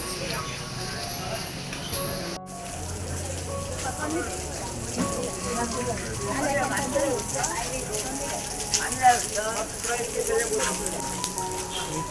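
Steady rain patters across a busy outdoor market, with voices and general bustle mixed in throughout.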